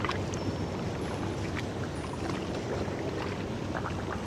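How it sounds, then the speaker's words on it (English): Water rushes and splashes in a steady, dense wash outdoors, loud and continuous throughout with no voices. "the sound of the water"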